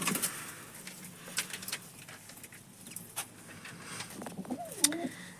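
A female pigeon coos softly near the end, a low throaty call over quiet outdoor background with occasional faint knocks.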